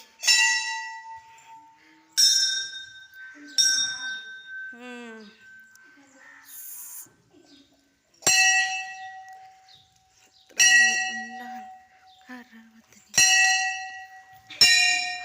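A Hindu temple bell at a Hanuman shrine rings in a series of bright metallic clangs, each struck and left to ring out. Speech is heard faintly between the strikes.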